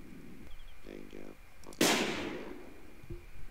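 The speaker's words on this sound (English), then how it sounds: "This is a friggin' shotgun." A single loud, close shotgun blast in the game Sir, You Are Being Hunted, with a sharp attack and a long decaying tail, preceded by softer game sounds.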